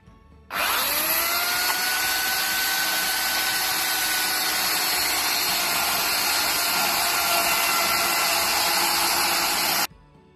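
A power saw cuts into a metre-long linden log being roughed out for a carved figure, starting abruptly and running loud and continuous with a high whining tone for about nine seconds before stopping.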